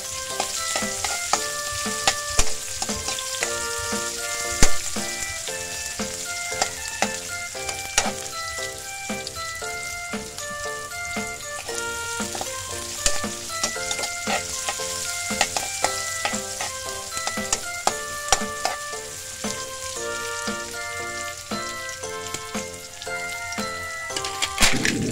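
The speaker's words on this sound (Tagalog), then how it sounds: "Haluin lang natin para napapantay ang luto ng ating bawang at luya." Garlic, ginger and onion sizzle in hot oil in a pan, a steady crackling fry broken by frequent clinks and scrapes of a utensil stirring, close and continuous throughout.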